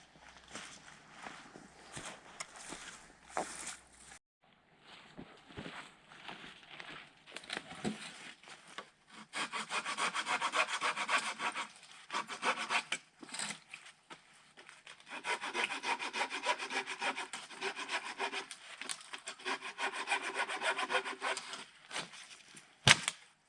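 A hand saw cuts firewood in the woods in long rhythmic strokes. Two extended bursts of sawing are separated by rustling, footsteps and brief pauses, close by.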